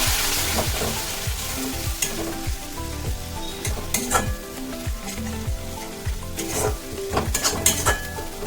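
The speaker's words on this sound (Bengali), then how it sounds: "কাশ্মীরি লঙ্কার গুঁড়ো, অল্প পরিমাণে জল দিয়ে মশলাটা ভালো করে ভেজে নিতে হবে" Masala with Kashmiri chilli powder and a little water fries in a pan for chicken kadai biryani, giving a loud, steady sizzle with frequent scraping stirs and clinks of a utensil against the metal.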